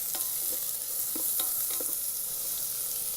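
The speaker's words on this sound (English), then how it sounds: "Now the onion is sauteed." Chopped onion sprinkled with salt sizzles steadily while sautéing in an Instant Pot, a continuous close frying hiss with a few soft stirring scrapes and no voices.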